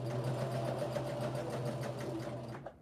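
A sewing machine runs steadily, stitching quilt blocks together with a close, continuous motor hum and a rapid needle rhythm, then slowing and stopping near the end.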